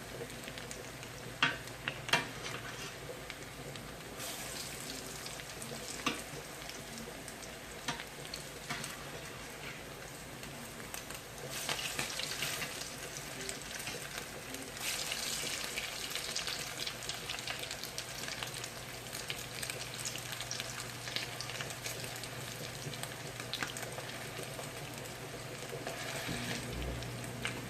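Steady crackling sizzle of cornmeal-coated salmon patties frying in hot oil in a pan, continuous and fairly close, swelling a little louder midway, with occasional soft clinks and no talking.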